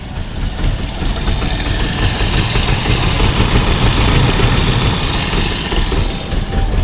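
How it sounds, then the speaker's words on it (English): Nissan D21 flatbed truck engine running with bad fuel, a rough continuous rumble that swells and sags slightly as it surges, heard close and without talk. "it's running, surging pretty good. It'll rev down,"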